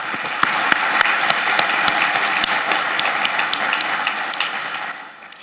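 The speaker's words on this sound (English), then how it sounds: "let's give another round of applause for Dr." A crowd at the Albuquerque Public Schools State of the District event claps together in a full, sustained burst of applause with sharp individual claps standing out, fading slightly in the final moments.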